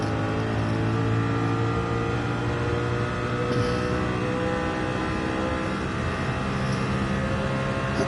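A race car engine in Gran Turismo 7 holding a loud, sustained high-revving drone that stays steady and close for several seconds, with no talk over it.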